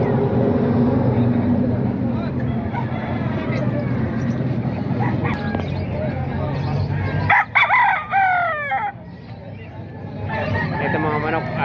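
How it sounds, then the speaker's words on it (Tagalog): Roosters crowing at a busy tianggê poultry market in Baliwag, Bulacan, several crows rising over dense crowd noise and steady chatter, one clearer call standing out near the end as the background drops. "Ito mga manok,"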